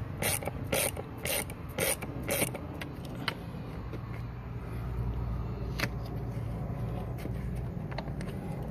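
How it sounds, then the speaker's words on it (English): A torque wrench ratchets on the engine air filter housing of a Mercedes-Benz W205 C-Class sedan, giving several quick clicking strokes in close succession and then a lower mechanical hum with an occasional click. "my torque wrench here should work just fine"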